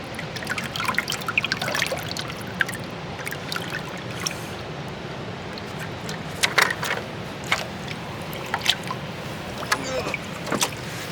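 Water trickles and pours over rocks outdoors, a continuous close splashing wash punctuated by sharper drips and splats at irregular intervals.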